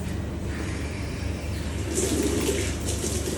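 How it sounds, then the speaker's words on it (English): Water runs steadily from a hose or tap onto a freshly gutted kingfish, a continuous close splashing wash that grows slightly louder partway through, with no talk. "Alright, so get a bit of water on here."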